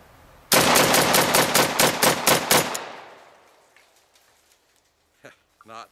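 An M1 Enforcer .30 caliber carbine pistol fires a rapid string of about nine loud, evenly spaced shots outdoors, then ring-out and quiet clicks and handling noises.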